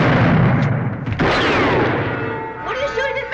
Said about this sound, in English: What are you shooting at me for?